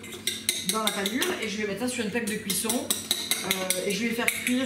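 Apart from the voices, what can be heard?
egg being beaten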